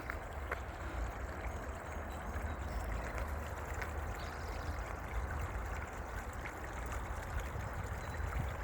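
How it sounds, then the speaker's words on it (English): Small stream of water trickling through wetlands at a spring habitat in Vancouver, a soft, steady, continuous wash heard at low level and somewhat distant, with no voices over it. "Perhaps you can hear the little tinkle of the water."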